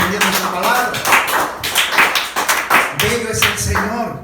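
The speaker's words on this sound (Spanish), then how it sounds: "Vamos a darle un aplauso a Jesús" A church congregation claps loudly and briskly together during a sermon, with voices speaking and calling out over the applause, which swells and dips in uneven waves.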